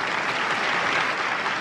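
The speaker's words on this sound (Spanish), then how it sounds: "El veredicto final ocasionó la ovación masiva de los habitantes de la ciudad de Minsk." Mass ovation from the residents of Minsk after the 1946 verdict against German officers, a brief, dense and steady roar of clapping from a large crowd.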